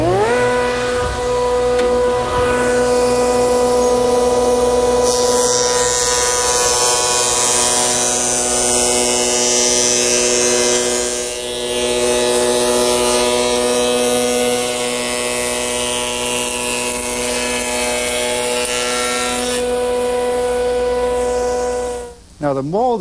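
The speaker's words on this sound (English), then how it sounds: "I've set up my shaper with a panel raising bit or cutter, and I've mounted a blank in my miter gauge. I'll mill the ends first" A shaper fitted with a panel raising bit mills a wooden panel blank held in a miter gauge. A loud, steady motor whine runs throughout, with a brief dip midway and the sound winding down at the end.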